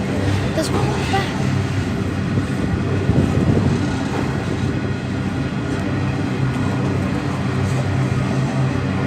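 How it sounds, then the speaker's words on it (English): A train rolls past on the railway near Coniston and Port Kembla, a continuous loud rumble with faint rail clatter throughout, while people talk over it. "This train's going to Dunmore."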